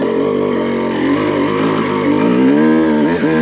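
A Honda CR250 two-stroke motocross bike climbs a steep hill, its engine screaming loud and continuous at high revs, then the pitch shifts and wavers near the end as the rider works the throttle.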